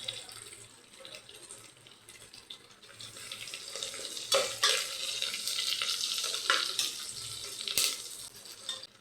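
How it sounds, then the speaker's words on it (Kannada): Curry leaves dropped into hot oil in a pan while cooking tomato rice, giving a steady sizzling crackle that swells louder midway with sharper spits near the end, close and without talk. "ಚೆನ್ನಾಗಿ ಫ್ರೈ ಆಗಬೇಕು ಎಣ್ಣೆ ಒಳಗೆ."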